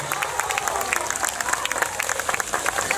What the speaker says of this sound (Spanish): Los aplausos respectivos.